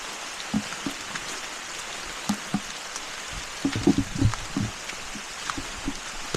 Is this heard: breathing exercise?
no